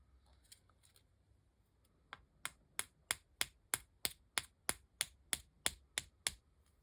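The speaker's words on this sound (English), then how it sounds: "Let me get my scissors here." Crisp scissor snips come in a quick, regular series of about a dozen, close up, after a few faint cuts at the start.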